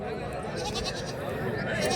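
Salem black goats bleating at a busy livestock market, their calls mixed into a steady hubbub of people talking nearby.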